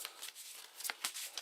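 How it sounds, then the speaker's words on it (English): A stack of Eldritch Horror investigator cards is shuffled by hand, with several quick crisp riffling bursts up close. "So we're going to shuffle these up"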